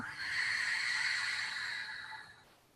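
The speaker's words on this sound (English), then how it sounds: "Breathe in and breathe out." A single slow, audible breath during a guided forgiveness meditation, a soft airy exhale swelling over a couple of seconds and then fading, quiet and close with no talking.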